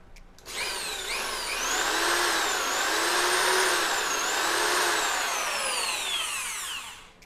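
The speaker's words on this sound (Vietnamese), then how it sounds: "Khoan thường đây." A Bosch power drill runs in regular drilling mode with no hammer action, spinning up to a loud, steady high whine that sweeps in pitch for several seconds before winding down, heard alone.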